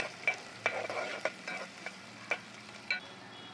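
Green chilli pieces fry in oil in a pan for a gongura curry, a low steady sizzle broken by several sharp spatula scrapes and taps against the pan at irregular intervals.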